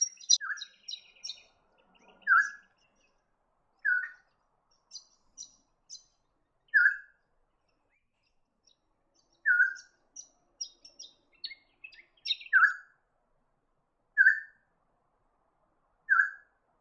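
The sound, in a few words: helmeted friarbird calling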